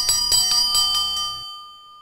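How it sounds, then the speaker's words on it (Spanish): A bell rings in several evenly spaced strikes, bright and resonant, then stops and its tone lingers and fades into silence. "para llamar a los arcángeles sonamos las campanas"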